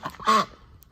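Backyard flock of ten hens giving one loud, close honking squawk mid-clip, with softer clucks and calls before and after.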